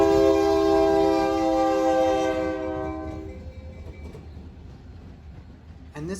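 An SD40 diesel locomotive leads the U.S. Sugar Sebring turn, a loud multi-chime horn blaring steadily for about three seconds before fading into rumbling rail noise and clatter as the train passes, with a brief bump at the end.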